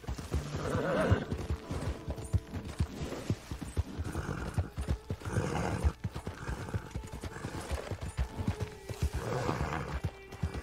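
A horse ridden in the video game Red Dead Redemption 2 gives a steady rhythmic clip-clop of hooves, close and continuous, with snorts and a whinny mixed in.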